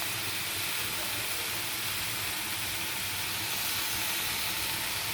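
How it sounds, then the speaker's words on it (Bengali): Chopped onion and tomato sizzle in hot oil in a pan, with potato and turmeric already added, for a village-style fig and potato curry; a steady, fairly quiet hiss with no talk. "দিয়ে দেবো পেঁয়াজ, এগুলো সব দিয়ে আমি সাঁতলাবো।"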